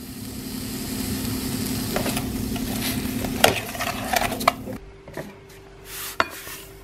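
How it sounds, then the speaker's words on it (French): A squash, sugar, cinnamon and maple syrup mixture being stirred in a pot as it cooks, giving soft scraping and a few sharp clinks of utensil on metal over a low steady hum. "Et je cuis jusqu'à ce que la courge soit tendre. Je remue régulièrement."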